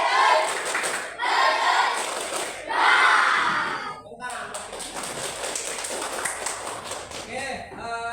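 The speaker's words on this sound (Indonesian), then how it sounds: "Tepuk harimau." A classroom group performs a tiger clap chant, bursts of loud collective clapping and shouted voices in several waves, then quieter scattered taps and chatter as the class settles, with voices throughout.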